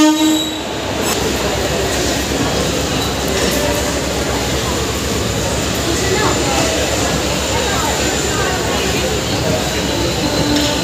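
The Shalimar–Digha special train rolls into platform 2 with a loud, continuous close rumble of wheels and carriages and a brief horn, with talk faintly underneath.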